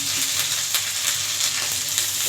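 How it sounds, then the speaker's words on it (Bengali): A paste of ground ginger, garlic, cumin and spices fries with fried onions in a pan, giving a steady loud sizzle with soft crackles, no voices. "এবার দিয়ে দিলাম আদা রসুন জিরে সব রকম বেটে রাখা মশলাটা"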